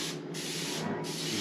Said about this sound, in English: we're going to spray it down with some pan